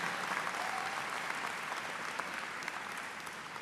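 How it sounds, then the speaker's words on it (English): A law school commencement audience applauds, a dense, even wash of clapping from a large crowd that holds steady for a few seconds. "that deserves a round of applause."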